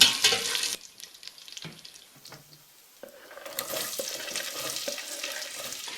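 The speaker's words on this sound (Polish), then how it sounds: "na tym tłuszczu zaraz będę podsmażać cebulę" Onion frying in sausage fat in a pot gives a bright sizzle, broken by scraping stir sounds and a brief splash of water; the sizzling swells again near the end, close and without talk.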